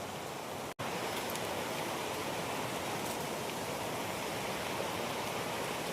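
A muddy, swollen stream rushes in a steady, broadband roar nearby during rain, continuous throughout after a brief dropout at the start.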